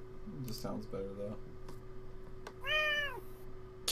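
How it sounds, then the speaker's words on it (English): A house cat meows at a door, with a couple of rising and falling meows and one clear, drawn-out call near the end, heard close over low background hum alongside a talking voice. "you're going to meow at my door and you won't even come in when I open it"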